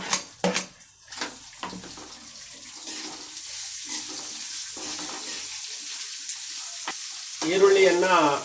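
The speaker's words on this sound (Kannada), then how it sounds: "ನಂತರ ನಾನು 3 ಈರುಳ್ಳಿಯನ್ನು ಕಟ್ ಮಾಡಿದ್ದೇನೆ, ಅದನ್ನು ಹಾಕಿಕೊಳ್ಳುತ್ತೇನೆ." Three chopped onions go into a pan and fry with a soft steady sizzle, with a few stirring knocks early on and a sharper burst of sizzle near the end.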